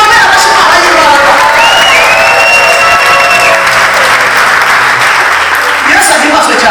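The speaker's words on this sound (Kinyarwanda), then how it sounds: "irikomere amashyi Imana y'imbaraga" Church congregation applauding at a Christian prophecy service, a dense sustained wash of clapping across the whole stretch with a high sliding tone and voices mixed in.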